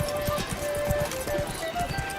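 Roach, a horse in The Witcher 3, gallops in a steady rhythm of hoof clip-clops, fairly close and loud, with faint music or tones running beneath.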